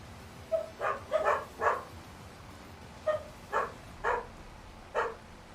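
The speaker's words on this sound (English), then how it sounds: "They really are the worst alert dogs ever because they bark at everything" Alert dogs on a farm barking in short bursts, a quick cluster of three or four barks, a pause, then four more spaced barks, moderately close and clear over quiet background.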